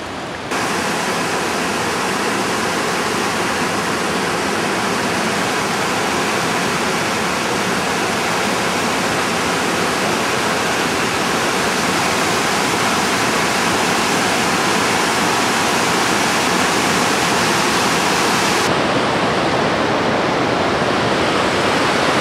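The Sulzbach river flows in a dense, steady rush of water noise, loud and close, continuing unbroken for over twenty seconds with a slight change in tone near the end.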